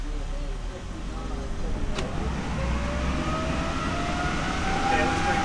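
A 2007 base Saturn Sky rolls on a dyno at low speed, around fifteen miles an hour, with an engine hum and a rising whine over a low rumble. Voices can be heard beneath the machine noise.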